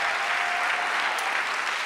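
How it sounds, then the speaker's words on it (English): A church congregation applauds in a dense, steady roar of clapping, loud and sustained without breaks, with a faint tone lingering underneath. "Give Jesus another big clap offering."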